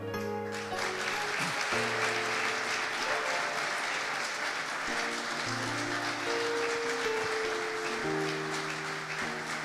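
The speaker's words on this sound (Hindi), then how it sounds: "वो लोग तालियां बजाएं जिनके डायरेक्शन को यीशु ने चेंज किया" Congregation applause at a Christmas church service, a continuous hiss of many hands clapping under sustained organ or keyboard chords, steady and moderately loud.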